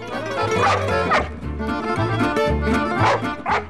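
A boxer dog barks and yips repeatedly in short bursts, fairly loud and close, over a steady music-like background with no talk.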